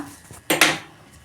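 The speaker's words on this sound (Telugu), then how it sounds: "స్టవ్ మీద గిన్నె పెట్టిన" A cooking pot set down on a stove while making lentil rasam (pappu charu), two quick close clanks in a row with no talking.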